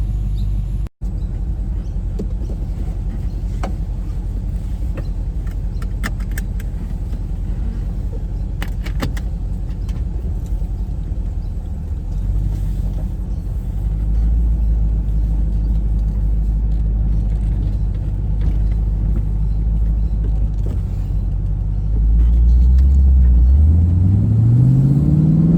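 A car fitted with a Mace Engineering throttle controller drives along under a steady, loud engine and road rumble, with a few light rattles early on and a rising engine sweep as it accelerates near the end.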